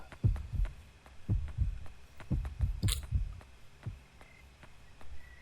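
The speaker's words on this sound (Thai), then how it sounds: "เสียงหัวใจกับเสียงที่มันหายใจ" A ghost's heartbeat from the horror game Yomawari: Night Alone thumps in deep, irregular double beats that pulse steadily and close. A faint hum runs underneath, and there is a brief hiss near the middle.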